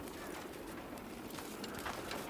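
A pigeon-like bird coos softly in the Crimson Desert video game, faint calls sitting within a steady wash of ambient background noise.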